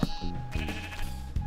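Sheep in the Minecraft video game bleat in a quick series of nasal, wavering calls, loud and close, with no talking over them.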